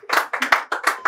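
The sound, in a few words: audience clapping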